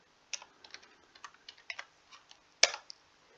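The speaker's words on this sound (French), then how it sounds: "Et là, on va taper Satan" Close, sparse keystrokes tap on a computer keyboard in a quiet room, a short run of light clicks ending with one sharper keypress.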